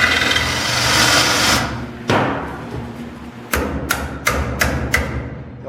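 An old wood chisel struck with a hammer into drilled steel on a 1959 GMC Fleetside pickup, heard as a steady rumble of work noise followed by a single sharp blow, then five quick metallic hammer strikes close by.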